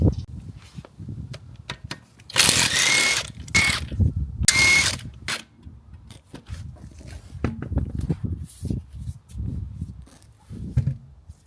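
A power tool works the wheel off a Vauxhall Corsa in two or three short, loud whirring bursts, separated by quieter clicks and clunks of handling.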